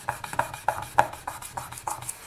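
Paper is burnished over polymer clay in quick, rhythmic rubbing strokes, about a dozen close scrapes in a row, each short and dry.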